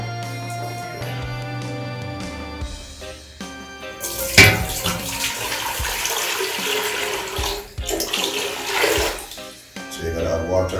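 Running water pours steadily into a cooking pot for several seconds, loud and close, with some clinking at the start.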